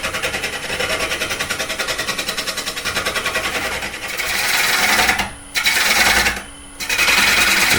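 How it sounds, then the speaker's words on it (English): A wood lathe spins a poplar blank mounted between centres while a Hercules carbide roughing tool cuts it, giving a steady rhythmic chattering scrape with a fast pulse that turns to continuous loud shaving, twice briefly stopping, close up and without speech. "With a poplar blank now mounted between centres, going to use the Hercules roughing carbide tool."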